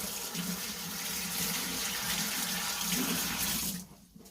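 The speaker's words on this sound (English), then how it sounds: "Let's wash my hands again." Tap water runs steadily into a kitchen sink as hands are washed during chicken cooking, a loud broadband gush that cuts off abruptly near the end.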